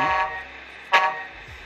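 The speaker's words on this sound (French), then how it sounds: "Vous avez vers le haut votre klaxon." A Tamiya MFC-03 multi-function unit in an RC car, worked from a Radiolink AT9S Pro transmitter, sounds a steady electronic horn tone for under two seconds, broken by a brief brighter blip near the middle.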